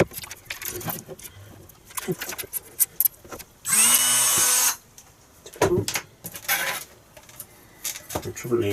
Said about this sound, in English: I'm going to do that with the Dremel.